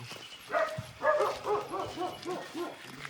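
Two dogs at a homestay in Madikeri give a run of short, rhythmic yips and whimpering barks, fairly close and moderately loud, against a quiet night background.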